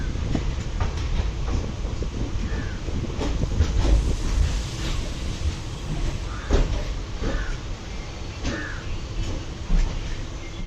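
Villupuram–Chennai Beach passenger train under way, a continuous rumbling ride with rhythmic clicks and rattles of the carriage, occasional squeaks and knocks of fittings, heard from inside the coach.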